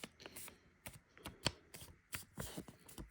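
Origami paper being folded by hand, a series of close, soft crinkling and crisp creasing rustles in uneven bursts, with no talking.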